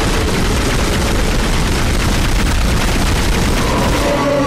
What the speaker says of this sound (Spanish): Aquí voy a usar la ametralladora para primero eliminar